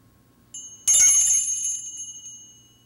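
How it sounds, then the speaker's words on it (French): A small handheld bell rings out once with a bright, clear tone and a long shimmering decay in a quiet room. "Ma petite cloche."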